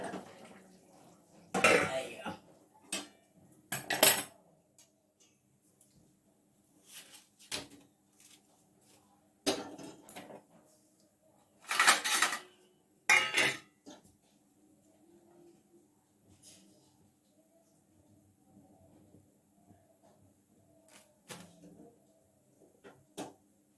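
Pots, pans and utensils clatter in a home kitchen as cooked meat is taken off the stove while flatbread is being made; sharp metallic knocks and scrapes come in scattered bursts with quiet gaps between.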